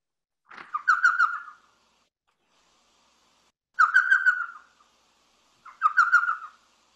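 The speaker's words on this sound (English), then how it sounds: "We could play the call of this common owl" A common owl's call plays back from a speaker in three separate hooting, whistled phrases, each about a second long with long silent gaps between, clear and alone in a quiet subtropical woodland.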